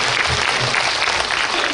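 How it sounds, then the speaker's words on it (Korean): A live audience at a CGV star live-talk event for the film Ansiseong applauds, a steady, dense wash of clapping filling the space without pause. "여러분들이 박수 한번 보내주세요."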